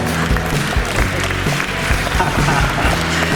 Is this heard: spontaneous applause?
yes